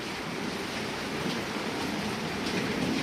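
Heavy rainfall in Rajahmundry keeps up a broad, unbroken roaring wash with water streaming down from above, close and steady throughout, no speech.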